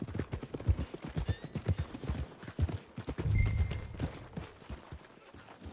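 Horse hooves clip-clop in the video game Skyrim, a steady stream of close, hollow knocks in uneven rhythm with a thicker cluster midway, playing alone without talk.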